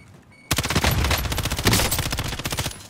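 Rapid automatic gunfire in the Call of Duty: Modern Warfare video game bursts in after a half-second of quiet, a dense, loud rattle of shots that keeps going to the end with no talk.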